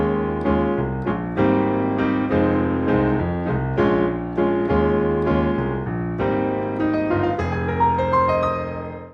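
Solo piano plays a song in a chorus section, with clear repeated chords and melody notes that ring out and fade at the end, close and alone without any voice.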